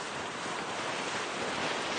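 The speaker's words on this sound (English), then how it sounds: "Wind's certainly come up stronger, isn't it?" Strong wind at sea around a sailing boat ahead of a cold front, a dense, steady roaring rush of wind and water buffeting the microphone, loud and unbroken, no voices.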